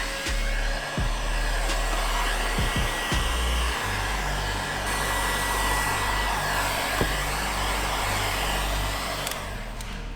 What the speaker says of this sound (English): And now I will use heat gun just to dry everything and just like seal the film on the